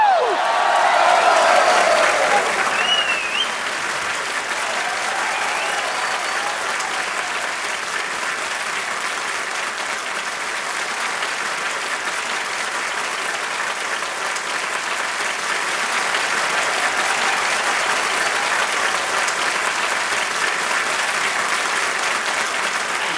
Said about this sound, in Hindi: सो जोरदार तालियों के साथ स्वागत कीजिए डॉक्टर मशहूर गुलाटी जी का